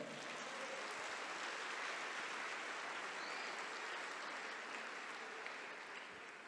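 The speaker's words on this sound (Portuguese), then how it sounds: "Pode aplaudir se quiser" An audience at an evangelical church conference applauds in a steady, sustained wash of clapping that holds even throughout and eases slightly at the end, heard faintly at a distance.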